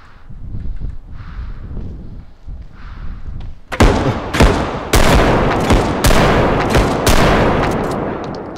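Sharp, loud video game gunshots crack out at intervals, several heavy reports with echoing tails after a stretch of quieter muffled rumbling.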